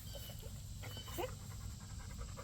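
A tired dog pants softly in quick, rhythmic breaths, faint and close, against a low background rumble.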